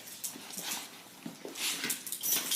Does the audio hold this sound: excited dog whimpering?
yes